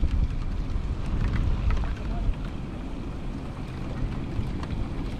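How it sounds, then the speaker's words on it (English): Rain falls outdoors as a steady broadband wash with wind buffeting the microphone, constant and close throughout. "this goddamn rain"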